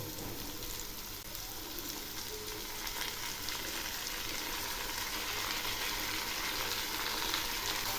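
Drumstick (sojne) leaves fry in plenty of hot oil, giving a steady, dense sizzle that stays even and close throughout with no talking.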